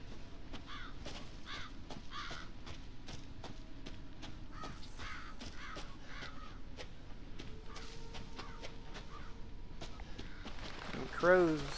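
Crows caw in the Resident Evil 7 game, a series of short harsh calls repeating through the clip over a steady low ambient rumble, with faint footstep-like taps beneath.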